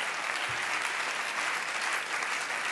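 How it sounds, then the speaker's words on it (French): A political meeting audience applauds a proposal in a steady, dense round of clapping that holds at an even loudness from start to finish, with no pauses. "Je suis rassuré que vous applaudissiez à cette proposition derrière moi également."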